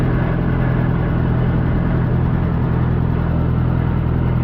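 A tractor engine idles steadily close by, a loud, constant low rumble and drone that holds unchanged for the whole stretch.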